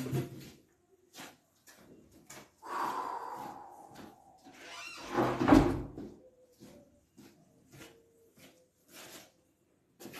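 A door opens and closes indoors during a classroom-style lesson, a brief louder knock-like thump standing out amid faint scattered clicks and background noise.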